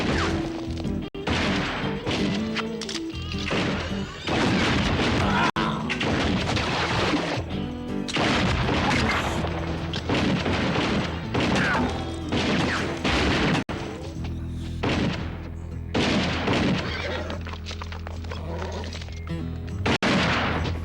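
A shootout in a dubbed French TV western episode about the Pony Express, with loud, dense volleys of gunshots and crashing impacts ringing out almost continuously over a noisy, chaotic scene.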